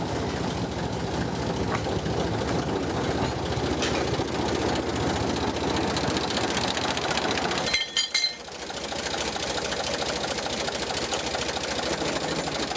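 A steady, low mechanical chugging drones continuously from an idling 1936 Ruston diesel locomotive on a narrow gauge light railway, with a brief dip partway through before the rumbling resumes.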